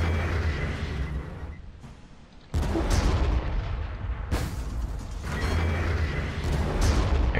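Heavy artillery fire in the strategy video game Armageddon: deep booming blasts with rumbling tails, two sharp detonations standing out over a continuous low battlefield rumble, loud and close.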